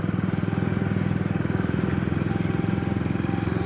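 A motorcycle engine at the Kotkapura vegetable market idles with a steady, throbbing putter, loud and close, running continuously without any change in pace.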